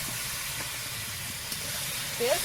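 Water poured into a hot pan of fried ground spices and Kashmiri chilli powder sizzles in a steady, close broadband hiss that runs throughout, with a brief faint voice-like sound near the end.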